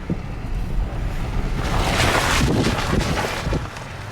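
A vehicle crossing a tiny, low-water creek on the route down toward the Colorado River in the Grand Canyon: a steady rushing wash of water and tyre splash swelling through the middle, heard close and loud without speech.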